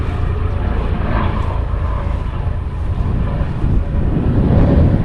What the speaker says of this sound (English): Coast Guard helicopter coming by